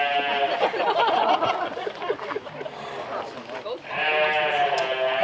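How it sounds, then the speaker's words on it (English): Sheep bleating nearby during flock evaluation for breeding, with two loud, wavering bleats at the start and end and a person talking in between. "This is a sheep."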